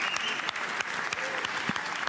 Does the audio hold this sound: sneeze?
no